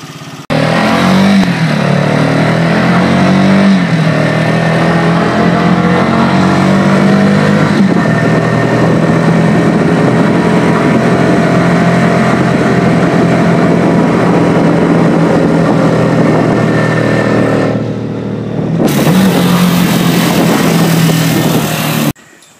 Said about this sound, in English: this Chinese little 150cc engine here, a Honda copy as we can all see, is very capable actually.